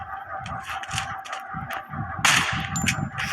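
Video-game gunfire: a run of sharp, ringing shots and metallic clangs in quick bursts, with a louder burst near the end over a steady background hum.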